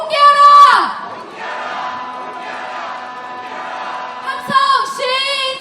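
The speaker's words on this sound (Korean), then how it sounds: "함성 시작." A protest march crowd in Myeongdong, Seoul, chants and shouts together, loud and sustained with rising bursts at the start and end, a leader's amplified voice cutting through.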